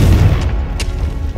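A Confringo explosive spell in Hogwarts Legacy goes off as a loud, heavy boom that decays over about a second, with a couple of sharp crackling pops riding on the rumbling tail.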